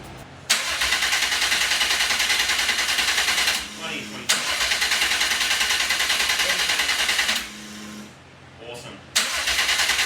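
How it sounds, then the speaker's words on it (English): A tuned 600+ horsepower Subaru Levorg engine cranks with the injectors off and never fires, making two long, loud, steady cranking runs separated by a brief pause. "Injectors are off. All I'm doing is cranking and seeing if I can get oil pressure."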